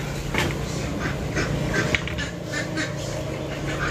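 Several large, fully grown ducks quack repeatedly at close range outdoors, a steady run of nasal calls over rural background noise.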